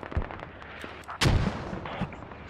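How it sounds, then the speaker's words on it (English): Mortar rounds landing in the military shooter game Squad, a few distant thumps and one heavy blast with a rumbling tail, no speech over it. "mortars are hitting that radio up north"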